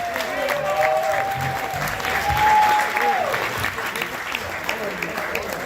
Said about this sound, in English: Now that deserves some real applause.